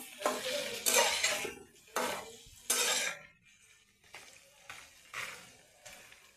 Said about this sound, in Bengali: এবার মরিচ দিয়ে দিচ্ছি শিঙা মরিচ দিয়ে একটু নাড়বো